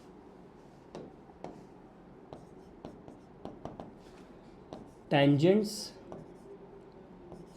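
Pen or chalk strokes during a mathematics lecture on parabola tangents, heard as scattered faint taps and scratches spread through the clip. A short burst of speech comes partway through.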